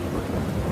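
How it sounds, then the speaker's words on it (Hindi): Heavy rain pours with a deep, continuous rumble of thunder, a dense, loud and steady storm roar with no voices. "हाँ, अब तो बारिश वाकई रुकने का नाम ही नहीं ले रही है"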